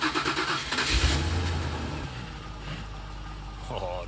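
A stolen Ford XR8 Falcon V8 cranking and catching, bursting into a loud, close rumble that settles into a steady idle, with a voice speaking over it.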